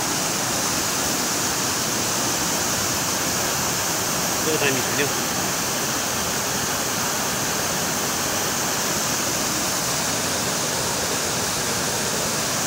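A river near the Baskote bridge in Rimbik rushes in a steady, loud, unbroken roar, with a brief bit of speech partway through.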